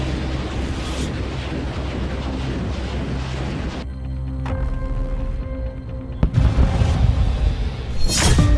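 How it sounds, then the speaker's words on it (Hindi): Missile and rocket strikes in the Russia–Ukraine war: a dense, continuous roar of blasts and rumbling, loud and sustained, with a sharp crack near the end followed by a heavier burst of noise. "आग उगलती मिसाइलों और रॉकेट्स की बौछार हो रही है"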